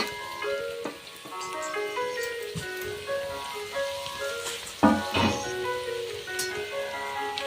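Bharangi greens drop into a hot oil tempering in a pot over a wood-fired stove, giving a steady close sizzle and crackle with scattered ticks and a brief louder burst of spattering.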